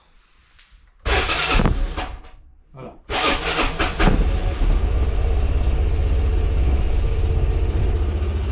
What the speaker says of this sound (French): Tu entends comment il a bien démarré après 3 ans.